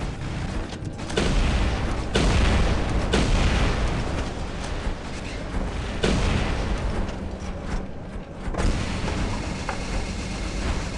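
Wasp corrosion weapons on a Spectre robot in War Robots fire in dense, rumbling bursts, loud and continuous with sharp repeated blasts over a heavy battle din.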